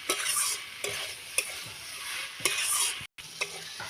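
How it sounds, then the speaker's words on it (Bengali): Cumin paste being sautéed into a Bengali pui-vituli chachchari, with a spatula scraping and stirring through the sizzling mix in a pan in a few distinct strokes, close and steady with no talking. "একটুখানি জিরা বাটা আছে দিয়ে দেবো জিরেটা বেশি কষানো হয় না"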